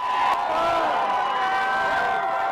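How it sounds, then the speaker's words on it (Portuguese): Crowd gathered outside the White House celebrating Obama's election victory, a steady dense roar of many voices with cheering and whoops, sustained and loud throughout. "Em frente à Casa Branca, uma multidão se reuniu para comemorar a vitória de Obama."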